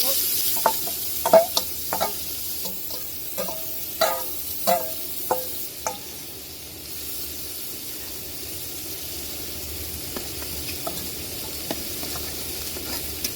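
Hilsa fish fries with onion in hot oil, giving a steady sizzle with a handful of scraping stirs and clinks early on before the pan settles into an even hiss.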